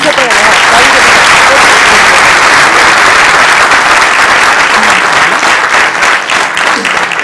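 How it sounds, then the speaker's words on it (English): A large audience at a public event gives a loud, sustained round of applause after a speech by India's Defence Minister Manohar Parrikar, a dense roar of clapping with crowd noise mixed in that holds steady from start to finish. "another huge round of applause for Honorable Raksha Mantri"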